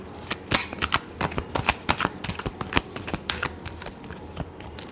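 Tarot cards are riffled and shuffled in quick, crisp bursts for a reading, a close run of sharp papery flicks and slaps repeating in an uneven rhythm.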